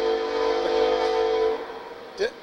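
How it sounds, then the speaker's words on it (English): A loud train horn blares in a long sustained tone, then cuts off, followed by a brief short blast and rumbling rail noise fading. "I heard a train. Must be a train. We got a train here."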